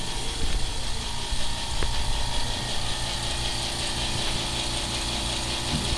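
A six-year-old Power Craft silent air compressor running at night, giving a steady mechanical hum with a fine rattling, ratchet-like texture and a faint click, moderately quiet and alone.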